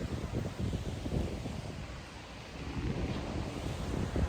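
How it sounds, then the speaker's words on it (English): Ocean waves wash on a Miami beach, a continuous rumbling surf mixed with gusty wind buffeting the microphone, with no talking. "I'm filming the intro on the beach"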